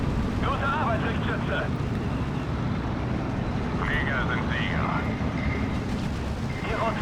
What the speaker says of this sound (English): Plane's coming in again